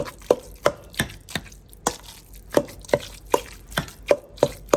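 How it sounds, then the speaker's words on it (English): Boiled eggs chopped with a knife on a board, a quick even run of about a dozen sharp, close taps with brief pauses between them, no voices. "So we're gonna chop these eggs up in here real quick."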